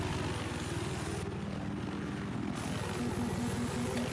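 In a competitive video game match on the Hainan map, a helicopter gives a constant, droning rotor whir with a fast rhythmic blade chop that holds at an even level throughout.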